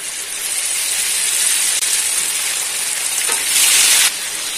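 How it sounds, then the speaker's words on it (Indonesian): Tempe bacem frying gently over low heat in a pan, a steady close hiss and sizzle with a slightly louder surge near the end, no talking. "Ini saya akan menggoreng dengan api kecil dan sebentar."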